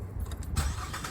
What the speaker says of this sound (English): We're gonna start the vehicle,